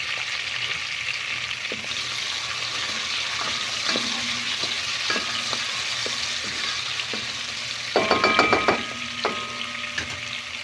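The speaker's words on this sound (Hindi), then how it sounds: "ये हरी मिर्च भी और लहसुन भी दोनों सोते हो गए।" Green chillies and ground garlic sauté in a pan with a steady, close sizzle throughout, broken by light spoon stirs and scrapes, and a brief louder burst of crackling near the end.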